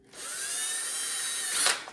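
A power drill whirs steadily for nearly two seconds with a high, even whine, then winds down with a brief scraping burst at the end.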